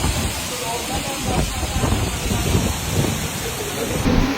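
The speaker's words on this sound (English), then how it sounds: "Grabe tong bagyong to, all-in-one, hangin, malakas, ulan, malakas, lahat." Typhoon Uwan in the Philippines: strong wind and heavy rain make a steady, loud roar and hiss that fills the whole clip, rising slightly toward the end.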